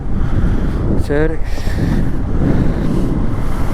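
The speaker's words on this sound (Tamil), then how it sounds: "நல்லா காற்றுடிக்கு." Strong gusts buffet the microphone outdoors as a cyclone approaches, a loud, constant low rumble that nearly swamps a brief spoken word.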